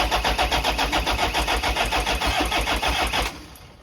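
A Toyota 1KZ-TE diesel engine cranks with a steady rapid rhythmic chug for over three seconds after reassembly, then catches and drops to a quieter running note, loud and close with no talk.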